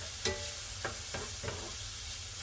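Cashew, carrot and ginger soup base being sautéed in a pot, with a soft steady sizzle and four light scraping stirs at intervals, faint and close.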